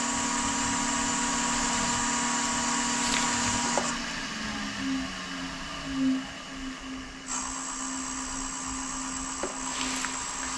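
A wood lathe spins a sapele tealight holder at about 485 RPM during polishing, producing a steady whining hum with a high tonal edge. Brief rubbing contacts and small clicks break in midway, close by and with no talk.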